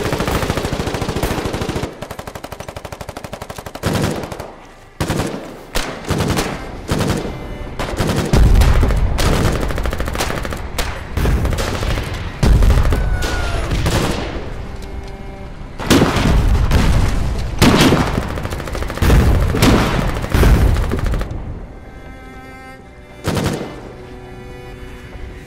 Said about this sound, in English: Our friendly artillery batteries continue to pound the city centre.